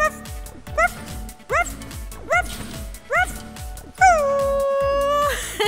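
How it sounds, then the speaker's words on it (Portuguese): A dog barks in a quick series of sharp, close woofs with pauses between, ending in one longer drawn-out yelp over a sustained tone in a children's learning show. "Dog! É cachorro em inglês!"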